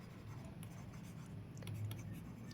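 Pen or chalk writing out a sum during a Class 8 maths lesson, a soft continuous scratchy stroke sound, close and faint over a low room hum, with no speech.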